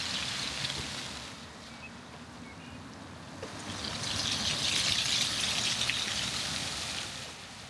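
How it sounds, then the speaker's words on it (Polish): Water pours and splashes from a city fountain in Łódź, a steady close rushing hiss that swells slightly partway through, outdoors with no talking. "Woda się leje."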